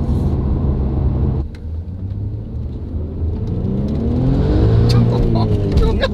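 An Audi RS4 sports sedan, B5 or B9 generation, roars as its exhaust rises under acceleration on a Spanish road, a loud, building engine snarl heard from inside the cabin with people talking over it.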